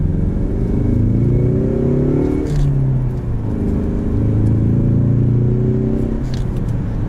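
A 2019 Ford Mustang EcoBoost with its 2.3-liter turbocharged inline-four and manual gearbox pulls hard, engine note climbing steadily, dipping briefly at a shift around the midpoint, then rising again, loud and continuous from inside the cabin.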